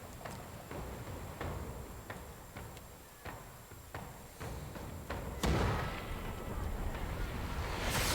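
Ship cannons fire one at a time during a naval battle in the video game Pillars of Eternity II. Several soft booming thuds are spaced apart under a faint steady hiss, and a larger blast lands near the end.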